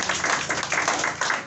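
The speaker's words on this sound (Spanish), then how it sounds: "Bríndale un aplauso a tu Dios." A church congregation claps together in a steady, dense wash of applause with a few louder swells, and no voices stand out.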